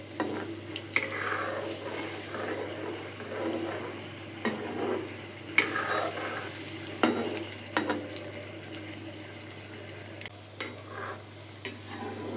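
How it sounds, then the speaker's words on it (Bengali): Sweet potato sweets frying in oil in a pan over gentle heat, a soft steady sizzle with occasional scrapes and clinks of a utensil stirring, no talking. "মিষ্টিগুলোকে ভাজবো"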